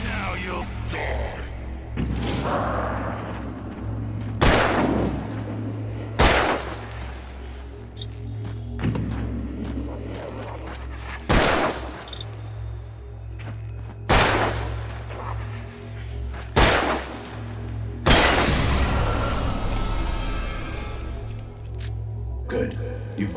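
Gunshots from the Alan Wake video game ring out as about seven loud, separate cracks spaced a few seconds apart. A steady low hum runs underneath, and voices speak between the shots.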